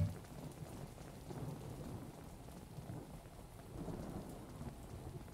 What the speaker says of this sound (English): And now I see the rain outside.